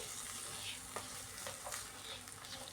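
Green beans sauté in oil over a medium-high flame, a dense close sizzle with a few light stirring clicks, steady and fairly quiet throughout.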